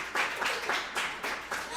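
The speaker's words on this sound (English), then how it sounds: "Clap it up for Bryn." An audience claps at a flag football ceremony, bursts of applause pulsing a few times in quick succession at moderate loudness.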